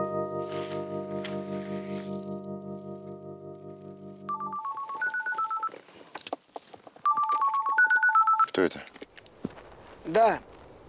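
A telephone rings with a steady pulsing electronic tone, then switches to short melodic ringtone phrases repeated twice, with footsteps and small handling noises in between and a brief sharp sound at the end.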